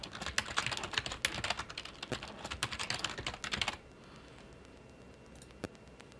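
Rapid computer keyboard typing of a password, dense clicking keystrokes for nearly four seconds, then near silence with one isolated key tap later.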